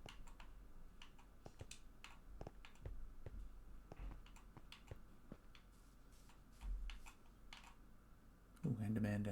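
Keys clack in quick irregular taps as a message is typed on a keyboard during a Minecraft session, fairly faint under quiet speech, with a louder bump near the end.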